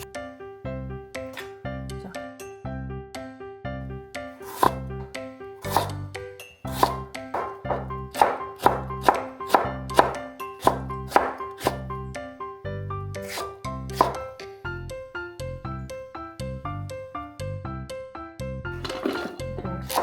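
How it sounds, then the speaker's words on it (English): Knife chopping pear and radish into thin julienne strips on a board for white kimchi stuffing, rapid steady taps over a musical background, no talking. "peel the pear and radish and julienne them nicely"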